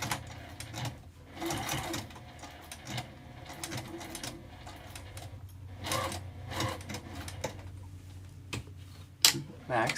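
A sewing machine stitches a Clematis wristlet from a free pattern, running in several bursts of rapid mechanical whirring and ticking with short pauses between, close by.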